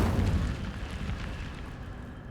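An Incendio fire spell is cast in Hogwarts Legacy, a loud close whooshing burst with a deep rumbling roar that slowly fades over a couple of seconds, with no speech.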